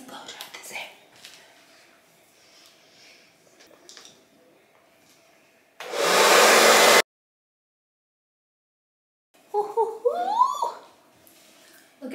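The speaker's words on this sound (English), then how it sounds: "Ooh, let's blow dry this hair." A hair blow dryer roars loudly for about a second while drying hair indoors, breaking off abruptly into silence, with soft whispering and talk before and after it.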